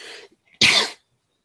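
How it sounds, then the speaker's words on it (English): One sharp, loud cough bursts out close to the microphone after a brief snatch of talk, then silence. "Yeah, more of a cough,"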